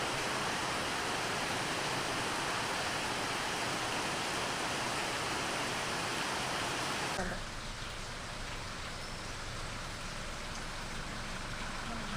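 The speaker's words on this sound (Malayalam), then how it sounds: "രാവിലെ തൊട്ട് മഴയുണ്ട് വെച്ചോ" Steady rain falling in a Kerala home setting, a dense continuous hiss that drops somewhat in level partway through, no clear talk over it.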